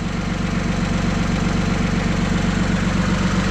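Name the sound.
tractor engine running under load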